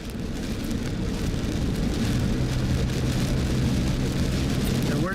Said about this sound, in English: Getting the rain here in Oklahoma is a double bonus.